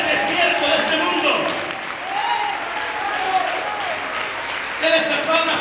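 A church congregation at a thanksgiving service claps in sustained, dense applause, with voices calling out and talk rising over the clapping.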